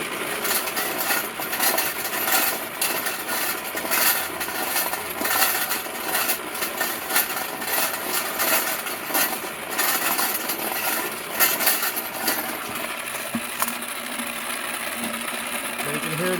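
A homemade one-dollar wet tumbler turning, giving a continuous loud rattling and clattering churn with an underlying motor hum that runs steadily throughout.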